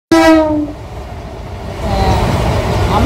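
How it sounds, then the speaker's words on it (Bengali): The Tamralipta Express sounds a loud, sharp horn blast as it departs Howrah station, followed by the rising rumble and clatter of the train pulling away. "অবশেষে সেই 6:45 ট্রেন, মানে 6:45 ট্রেন 11:51 ছাড়লো"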